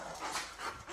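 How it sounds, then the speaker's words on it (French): Dogs at home, including an older Jack Russell, panting and whimpering close by in a steady breathy rhythm, with a sharper whine at the end. "nos amis les chiens"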